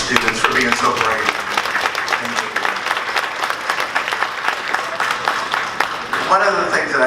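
An audience at a noon forum applauds panelists and students, steady, close, crowded clapping that carries on throughout, with a voice briefly audible near the end.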